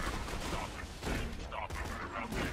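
Rapid gunfire from Borderlands 2, shooting at balls, with dense overlapping bursts of shots over a cluttered game soundtrack, steady and loud throughout.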